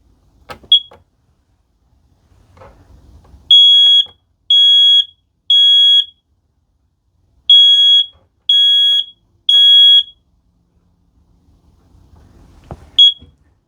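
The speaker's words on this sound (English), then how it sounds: "it engaged the smoke detector. So now let's go ahead and hit our test." A smoke alarm being tested sounds six loud, shrill electronic beeps in two groups of three, with a short chirp at the start and end and faint handling noise between.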